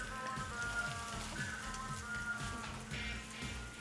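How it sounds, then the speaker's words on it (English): Veal sizzles steadily in a pan, a dense crackling hiss with irregular pops, close and continuous without any talk. "pan fry this veal."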